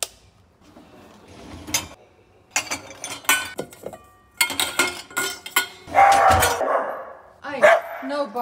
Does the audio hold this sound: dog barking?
yes